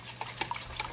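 A spoon stirring broth thickened with cornstarch into gravy for shepherd's pie, quick light clinks and scrapes against the pot in a brief close burst.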